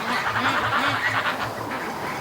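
Goose walking around in a free-range flock, giving a run of repeated nasal honks and quacking calls at close range, continuous over outdoor ambience with no talk.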